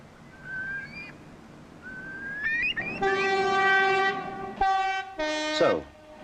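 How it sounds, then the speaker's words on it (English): A train crossing the Britannia Bridge over the Menai Strait in 1973 sounds a loud, sustained multi-tone horn in several long blasts, with an earlier thin whistle-like tone and rumbling rail noise underneath. "the first train could move cautiously across the strait."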